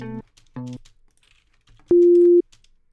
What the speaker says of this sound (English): I'll run a sine wave through it.